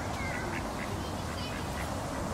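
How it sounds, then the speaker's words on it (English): Duck quacking outdoors, a few short quacks rising out of steady broadband background noise, faint to moderate and fairly distant. "There's a duck."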